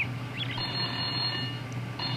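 A telephone rings in the video game The Smelly Mystery, giving a long electronic ring and then the start of a second one, fairly loud and with no speech.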